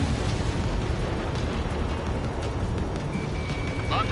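A missile launches and explodes in a flight combat video game, a dense, continuous roaring blast that stays loud for the whole span with no pauses.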